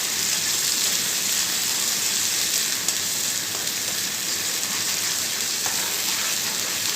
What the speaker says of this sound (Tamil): இது கொஞ்சம் நல்லா பச்சை வாசனை போகிற அளவுக்கு வதக்கி விட்டுக்கோங்க.